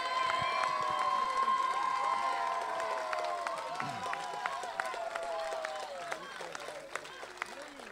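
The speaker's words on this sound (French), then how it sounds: "je vous demanderai, si vous le permettez, de faire un applaudissement" An outdoor summer festival crowd at the Estivales de Vieux applauds and cheers after the mayor's speech, a lively wash of clapping and calls mixed with busy crowd noise and faint voices throughout.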